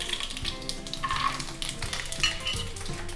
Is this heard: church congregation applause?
no